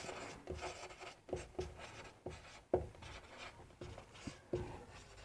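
A pen writes out a chemistry definition on paper in a quiet room, making steady scratchy strokes punctuated by sharp taps as the tip lands, close and moderately faint, with no talking over it.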